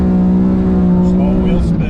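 A BMW F80 with the S55 engine roars loudly in second gear, a steady, rich engine drone held throughout at close range.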